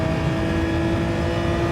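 Race car engine in Gran Turismo 7 holding a steady, dense drone just after a manual upshift, loud and continuous with no voices.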